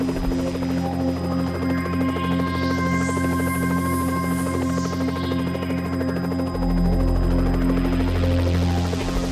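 Steady rotor throb and droning turbine hum inside the cabin of South Yorkshire Police's helicopter, with layered tonal whines and a sweeping pitch that rises and falls, deepening into a heavier rumble near the end.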